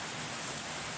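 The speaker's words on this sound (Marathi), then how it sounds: "हे अनोखं संगीत आहे पावसाचं." Monsoon rain falling on trees outside a home window, a dense even wash of steady patter, moderately loud and continuous for a brief moment with no voices.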